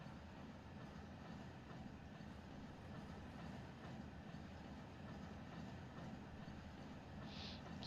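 A locomotive in the Run8 train simulator shoves a long string of freight cars back through the Waycross rail yard in notch 3, giving a steady low rumble and hum with faint rail noise, continuous and moderately loud, no talk.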